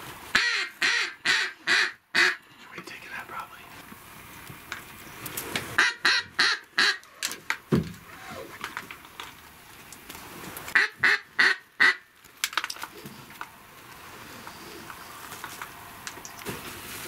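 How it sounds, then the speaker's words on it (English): A duck quacking during a hunt, several bursts of rapid, rhythmic quacks repeated in groups, fairly close and moderately loud over a quiet outdoor background. "There's a duck right here"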